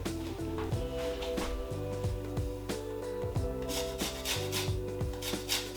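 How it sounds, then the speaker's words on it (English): Limes being zested on a grater, giving repeated short rasping strokes in a steady rhythm, fairly quiet and close, with no talking. "then you get the zest of 2 limes"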